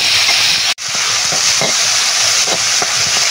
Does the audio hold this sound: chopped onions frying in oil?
yes